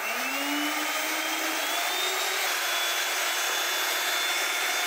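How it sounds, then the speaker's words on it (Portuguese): A blender runs at high speed mixing eggs, milk and cassava for a sausage and cassava pie, a loud continuous whir whose pitch shifts slightly as pieces are added. "Vou estar ligando em velocidade alta e vou acrescentando a mandioca aos pouquinhos para estar batendo."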